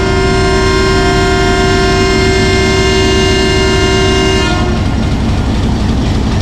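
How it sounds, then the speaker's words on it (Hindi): A Rawalpindi passenger train, the 267UP, sounds its departure whistle on a rainy day as a single loud, steady tone held for about four and a half seconds, then cuts off into rumbling rail and engine noise. "राइट टाइम इनिशियल विसल हो गई है"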